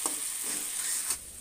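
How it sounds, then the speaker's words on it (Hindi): A potato and bean curry cooks in a home kitchen with a steady, close sizzling hiss and a faint stir near the end. "तो यहाँ पे हो रही है कुकिंग, आलू और बीन्स की सब्ज़ी है ये"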